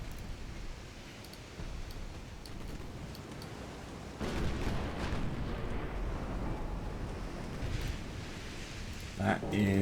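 Battleship guns boom in a naval war game, heavy deep blasts and rumbling detonations layered over ongoing battle noise, growing louder midway, with a burst of sharper clatter near the end.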